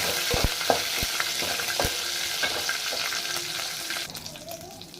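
Cumin seeds fry in oil in a pot for chicken bagara rice, with a close, even sizzle punctuated by a few sharp spoon taps early on, then a softer, watery crackle near the end.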